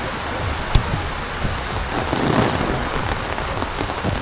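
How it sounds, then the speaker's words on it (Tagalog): Heavy rain pours down steadily on a farm, a dense, continuous hiss of drops hitting surfaces with no pauses and no voices. "Hindi inaasahang lalakas yung ulan."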